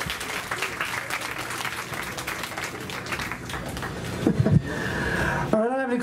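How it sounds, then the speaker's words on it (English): Audience applause at a county fair show, steady broadband clapping from a crowd lasting several seconds, with a voice briefly speaking over it near the end. "Let's give another round of applause."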